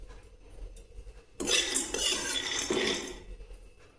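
Peanuts being dry-roasted in a pan for methi masala give a sudden burst of rattling, scraping clatter partway through as they are tossed and stirred, then fade back to a quiet background.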